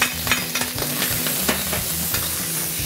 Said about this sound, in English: So I'm gonna put some canola oil in there. Let's dump in our dried scallop,